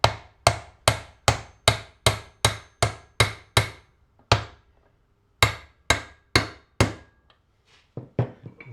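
Sharp metal hammer blows against aluminium dollies on a Bridgeport machine being refurbished, struck close and loud in an even rhythm of about a dozen hits, a pause, then four more and a few lighter taps.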